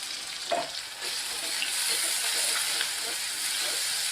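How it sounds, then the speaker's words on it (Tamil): Onions and freshly crushed garlic sauté in salted oil, giving a close, continuous sizzle and crackle with a few scrapes of stirring at the start. "இது சூப்பராக வதங்கிட்டு வருது இந்த வெங்காயமும் பூண்டும்"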